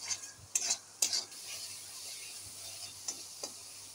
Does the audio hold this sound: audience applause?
no